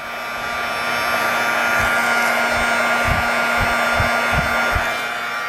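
A heat tool blows steadily over resin poured into a mold, a constant loud airy whoosh with a faint tonal hum running the whole time and a few soft low bumps near the end.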